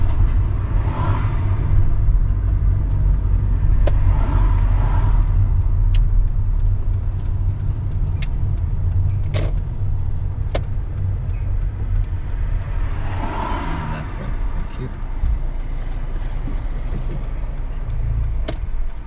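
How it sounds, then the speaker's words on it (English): A car on a UK road pulls over to the left and parks, heard from inside as a steady low engine and road rumble with faint clicks and no talking. "We're gonna pull over and park just before the blue car on the left."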